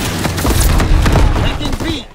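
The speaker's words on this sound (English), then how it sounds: "Enemy bomber approaching. Incendiary bomb. Enemy bomb incoming." Heavy explosions and dense gunfire from an enemy bombing in Call of Duty WWII, with booming, crackling blasts in rapid succession and voices mixed into the din.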